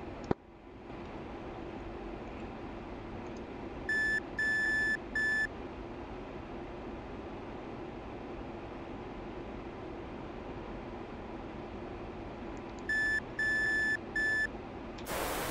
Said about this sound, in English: We'll need to keep our eyes peeled on the radar warning system as well.